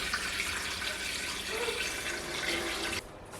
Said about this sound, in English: I'll pour the whey in and drain this off.